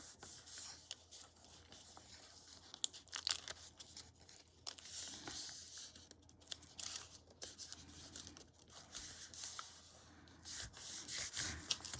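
A bone folder rubs along the fold of a paper lunch bag, quiet dry scraping strokes repeating in short bursts, close and faint with no voices.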